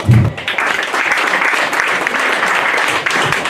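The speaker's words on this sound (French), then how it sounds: "on applaudit encore s'il vous plaît mesdames et messieurs" Dense, steady applause from an audience at a Miss and Mister beauty pageant election, holding loud and unbroken throughout with a brief low murmur at the start.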